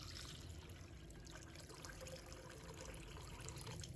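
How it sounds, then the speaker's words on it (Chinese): Clear water pours into a bowl of cut beef brisket, a steady, soft trickle and splash running throughout at low level against faint background noise. "倒入清水"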